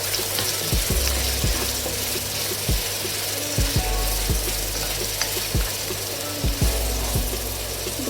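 Coconut pieces and curry leaves sizzle in oil for a Kerala-style nadan chicken curry, a steady frying hiss broken by repeated knocks and scrapes as the mixture is stirred in the pan.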